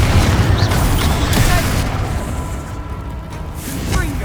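A Confringo fire-blast spell explodes in Hogwarts Legacy on PS5, a loud, close, booming blast followed by rumbling bursts and a whooshing tail that fade and then swell again.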